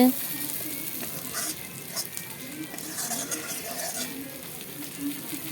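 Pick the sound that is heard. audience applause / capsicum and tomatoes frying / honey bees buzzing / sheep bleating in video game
capsicum and tomatoes frying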